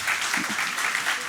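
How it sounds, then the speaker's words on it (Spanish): A church congregation applauds during a Sunday service, a dense, steady wash of clapping throughout with a faint voice briefly underneath. "Un aplauso para Celeste"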